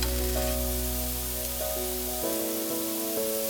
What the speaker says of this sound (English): Just keep flipping them and cooking them until the white parts have become mostly translucent.